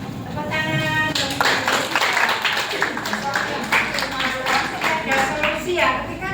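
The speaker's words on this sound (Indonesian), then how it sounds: "Tepuk tangan." Classroom audience clapping hands at a teacher's lesson, a burst of rapid claps that builds and carries on steadily, with voices and a tonal hum mixed underneath.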